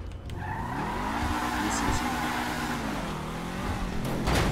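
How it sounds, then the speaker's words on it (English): Car in the video game GTA crashing with a loud tire squeal and skid over a continuous engine roar, with a voice talking over it. "Oh, didn't mean to crash her car."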